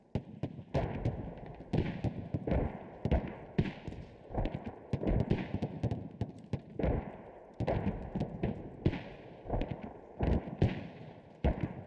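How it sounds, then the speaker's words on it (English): Mortar fire in the tactical shooter game Squad: rapid, repeated booming impacts and blasts, irregular and dense, coming from near and far across the whole stretch with no pause. "Mortars."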